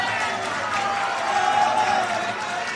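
Crowd clapping at a political rally in Rajasthan, a dense, steady patter of many hands that swells slightly in the middle and continues throughout.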